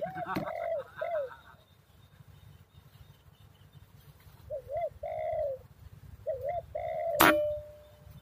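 A racing pigeon coos in short repeated bursts, two near the start and several more later, fairly close and clear against a quiet outdoor background, with a sharp click or tap near the end.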